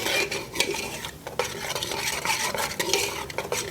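A spoon scrapes and stirs flour into melted butter for a roux in a metal pan, making a soft sizzle under repeated clinking scrapes, close and steady, with no talk.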